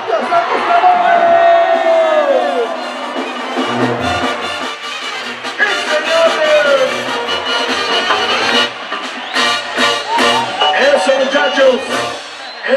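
A crowd at a rodeo jaripeo event in Autlán, Jalisco cheers and shouts loudly and continuously, with whoops rising over the roar and an announcer's voice carrying through on top.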